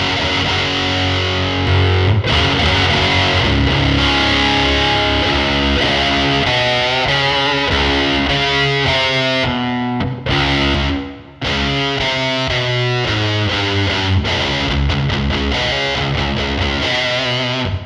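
A distorted electric guitar plays a continuous, busy riff through a Belle Epoch Deluxe echo pedal, with echoing repeats trailing behind the notes, loud and dense throughout.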